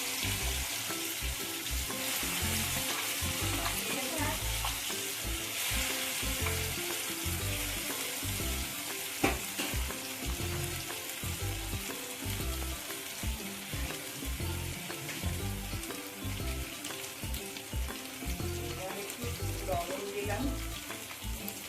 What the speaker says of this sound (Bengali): পেঁয়াজটা রসুন লঙ্কা এভাবে ভাজা ভাজা হয়ে গেলে তখন আমি পাতাটা দিয়ে দিচ্ছি